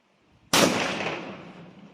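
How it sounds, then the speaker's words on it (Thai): A single loud blast from a 12-gauge break-action shotgun with an 18-inch barrel, fired at a target about 17 meters away, with a sharp onset and a long, decaying echo, no talk. "ยิง ไปที่เป้าหมายเดิมนะครับ ที่กระลอน"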